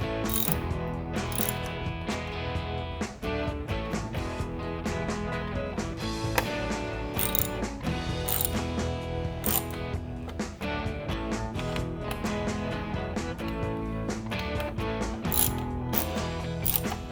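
A ratchet clicks steadily as bolts are tightened on an SW MotoTek pannier rack being fitted to a KTM motorcycle, with dense repeated pawl clicks running continuously for the whole stretch, close and clear with no talk.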